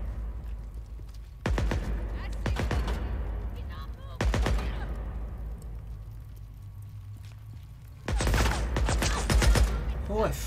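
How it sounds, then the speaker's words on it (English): Automatic weapons gunfire in the Days Gone video game, three loud, close bursts of rapid shots separated by short pauses, with someone talking in between. "They've all got automatic fucking weapons and shit."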